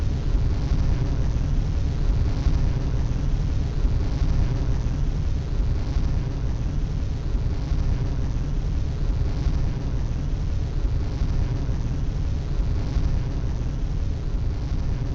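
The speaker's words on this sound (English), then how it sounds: "We have 5 otter engines running nominally as Helix makes its way to space." The Helix rocket climbs toward space on five Otter engines, a continuous, dense roar of broadband rumble that stays steady and unbroken throughout, heard from a distance.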